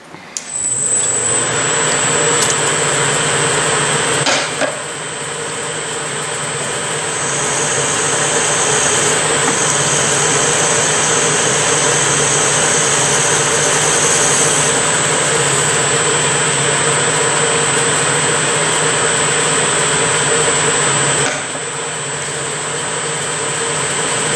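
A steady, loud mechanical whir runs continuously with a high whine on top as a drill bores out a metal part of a Cushman binder engine, briefly dipping and resuming.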